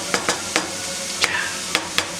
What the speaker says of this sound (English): Make sure to stir it. It's not sticking to the bottom.